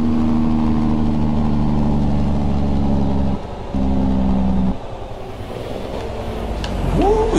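A loud Freightliner truck engine in American Truck Simulator rumbles steadily with a low droning hum, then cuts out briefly and returns with rising, revving tones of the engine brake near the end.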